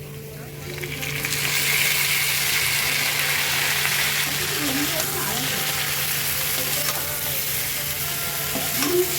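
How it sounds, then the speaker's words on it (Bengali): Boiled chow mein tossed in a pan with fried potatoes, a loud continuous sizzle with scraping stir strokes throughout, close up, no talking. "এই যে সেদ্ধ চাউমিনটা এবার দিয়ে দিচ্ছি।"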